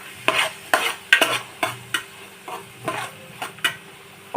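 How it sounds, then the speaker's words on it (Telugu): Onions and green chillies fry in a pan for a rajma curry, a spoon scraping and stirring in roughly a dozen regular strokes over a steady low sizzle, close and alone. "ఆనియన్స్ రెడ్ కలర్ వచ్చేదాకా వేపాలి."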